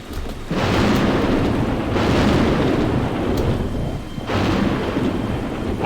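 Loud rolling thunder rumbles continuously through a stormy level of the video game Painkiller: Resurrection, swelling in three heavy bursts over a constant roar of rain-like noise, no voices.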